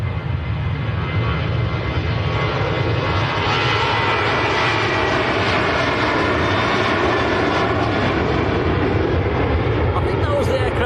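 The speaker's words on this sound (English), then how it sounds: "I think that was the aircraft with the sticker on the back as well, which had just about faded off." A Ryanair airliner departing Manchester Airport for Murcia, a loud, sustained roar of jet engines at takeoff power that stays dense and close throughout, with a voice talking beneath it.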